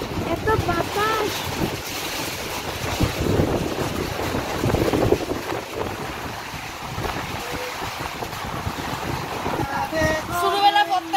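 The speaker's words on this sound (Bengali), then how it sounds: "এত বাতাস" Strong wind buffets the microphone on a boat trip to Mayapur, a continuous gusty roar with water and boat noise beneath that swells and eases without pause.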